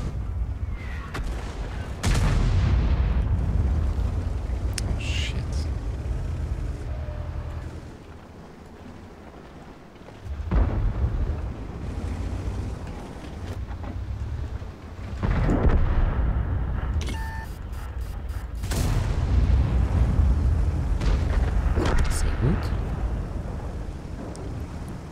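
Heavy tank cannon shots in World of Tanks, several loud booming blasts with long rumbling tails spaced across the stretch, over a constant low battlefield drone.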